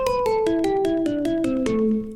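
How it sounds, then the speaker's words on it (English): An Omnisphere synthesizer patch from the Sanctuary library plays a descending sequence of about nine bright plucked notes, evenly spaced and each ringing briefly. The last note sustains and then fades, with no voice. "I've pre-programmed a sound in Omnisphere using a patch from my library, Sanctuary."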